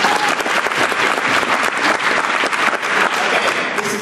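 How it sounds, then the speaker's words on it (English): An audience at a media festival's quiz-style roundtable session gives a dense, loud round of applause, steady and unbroken throughout. "Give them a round of applause!"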